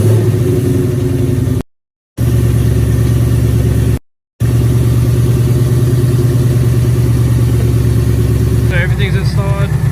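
A Ford Mustang GT fitted with a JLT cold air intake and tune starts and runs, with a steady rumbling idle close by, broken by two brief gaps and a short burst of noise near the end.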